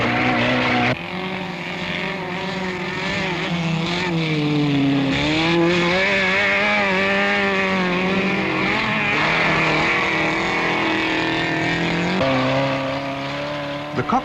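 A saloon car's busy engine drones and rises and falls in pitch through a 1970s autocross race on loose ground, heard loud and close from the stripped cockpit over about fourteen seconds.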